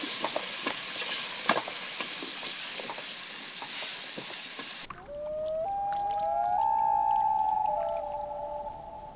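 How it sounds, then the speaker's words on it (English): Onions, garlic and peppers simmering in tomato juice give a steady bubbling sizzle with light pops for about five seconds, then the sound cuts abruptly to sliding, whistle-like tones. "we'll mix everything together, and yeah, let it simmer"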